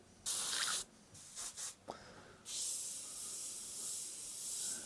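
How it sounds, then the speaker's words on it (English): Bursts of a spray gun laying thinned automotive paint mixed with reducer onto a test panel: a short hiss, several brief puffs, then a longer sustained spray, fairly close. "just spraying on the test panel, this is really thin."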